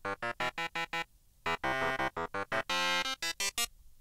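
A small homemade synth plays short, punchy bass notes in quick bursts, separated by brief gaps, with a few longer held tones, loud and dry, with no voices.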